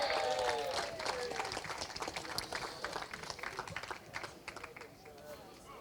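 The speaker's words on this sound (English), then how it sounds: "Big round of applause, please, for Minimax driver 37" Outdoor crowd applause rings out for a Minimax kart driver at a karting prize presentation, the clapping dense at first and then gradually tapering off.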